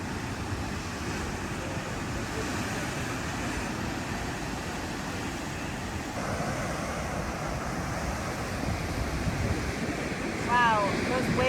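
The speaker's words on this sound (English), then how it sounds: "Wow, those waves are impressive." Ocean waves rolling and breaking off Antigua, heard from aboard a sailboat: a steady, close roar of surf mixed with heavy wind buffeting the microphone, continuous throughout with a slight swell near the end.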